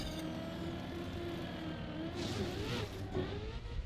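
A car spinning out in the Trackmania Winter Campaign racing game, its engine whining and revving with a rising, sweeping pitch over steady game background sound.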